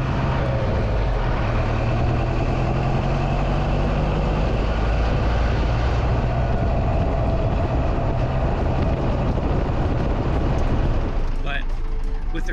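A 4BT Cummins diesel engine idling in a 1988 Ford Ranger, a steady loud low rumble with droning mechanical hum, close up, fading away near the end.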